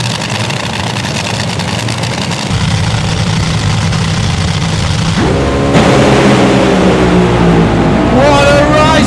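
Top Fuel dragster race run: a loud, continuous engine roar fills the clip, rising in intensity midway with a crowd or commentator voice over it.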